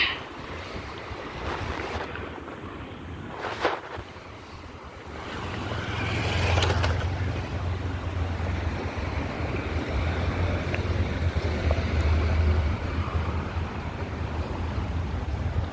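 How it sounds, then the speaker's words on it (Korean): Strong wind blows outdoors on a city street, a loud, steady roar and low rumble buffeting the microphone, building after a few seconds and holding throughout. "완전히 강한날씨라서 이제 바람이 좀 부네요"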